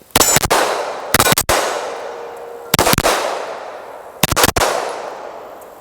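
Four loud, close gunshots from a Sig P211 GTO compensated 2011-style pistol, fired at an irregular pace, each sharp crack followed by a short echoing decay, with no talking.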